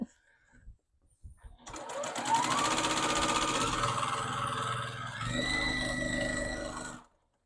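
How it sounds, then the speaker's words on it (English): A home sewing machine stitching pajama-pant fabric at high speed, a loud steady mechanical whir with rapid needle chatter that starts after a few soft clicks, holds for about five seconds with a slight pitch shift, then stops abruptly. "My sewing machine can go really fast if I want it"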